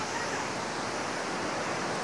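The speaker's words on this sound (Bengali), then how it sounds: "চলো বন্ধুরা, তোমাদের দেখাই এবার গন্ডিচা ঘাকি ওয়াটারফলস" Gandhichaghagi waterfall in Keonjhar, swollen with water, gives a steady, dense roar of rushing water without a break, heard close and alone.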